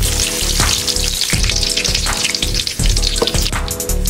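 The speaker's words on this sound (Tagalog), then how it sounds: "Tutuin natin yung nuggets tol." Chicken nuggets fry in a pan with a steady, dense sizzle and crackle that stays loud and close throughout, broken by a few brief clatters, with no talking.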